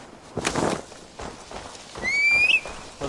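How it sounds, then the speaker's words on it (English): A horse whinnies briefly in Assassin's Creed Valhalla: a short, high, rising cry over soft game ambience and light footfalls, fairly close. "The horse is still a problem. It takes forever for it to catch up to you."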